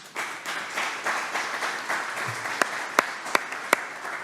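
Sustained applause from an audience at a Waxahachie ISD school board meeting, a steady wash of clapping filling the room, with a few sharp louder claps standing out near the end.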